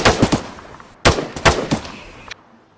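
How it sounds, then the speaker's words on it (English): Three quick gunshots crack out in a tight burst, followed after a short pause by another three-round burst, loud and close, each ending in a brief echoing tail. "Some type of older guns use burst fire automatically, so it's basically 3 consecutive rounds."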